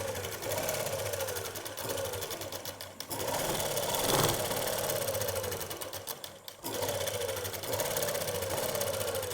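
A sewing machine runs loud and close while stitching a sleeve seam, a fast continuous mechanical whir that stops briefly twice before starting again.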